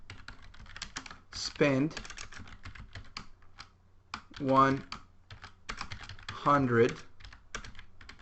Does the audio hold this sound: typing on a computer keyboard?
yes